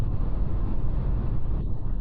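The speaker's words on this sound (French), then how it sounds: "je pense qu'il y a un peu de vent de l'avant" Steady, rumbling wind buffeting the microphone from the front of a moving 2026 Dacia Logan on a road drive, a low continuous roar with no voices.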